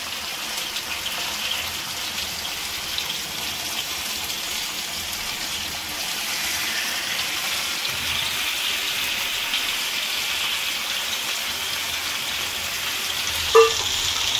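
Fish sizzling and frying in oil on a large tawa, a steady, dense crackling hiss that holds evenly throughout at close range, with one brief sharp tap near the end.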